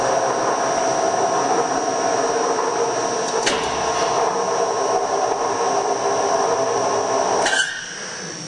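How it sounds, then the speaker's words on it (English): Hydraulic pump on a Carell PP4046 combination rebar bender and shear running as a steady loud whine and hum, with a clunk midway and the drone dropping away near the end. "now you hit your green button to start the pump"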